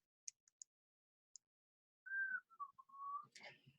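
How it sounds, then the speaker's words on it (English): A man whistles an Irish tune, a few short isolated chirps followed by a clear, sustained melodic phrase of gliding notes, close and alone in a quiet room. "He is whistling something Irish."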